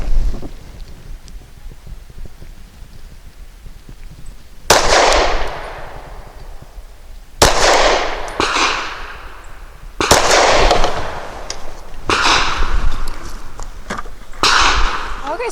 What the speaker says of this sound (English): And now we have Critical Defense, 100 grain. It's the light load.